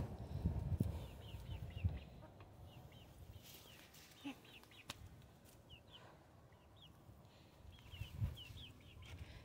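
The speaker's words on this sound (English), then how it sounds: "They still peep like chicks." Young chickens peep in high, thin chirps that come in small clusters through the clip, with low rustling and a few clucks from the adult birds underneath and some faint voices in the background.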